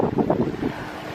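Wind rushing over a sailboat under way with its wind vane self-steering set, loud and steady, with gusting pulses and water sloshing beneath, no talking.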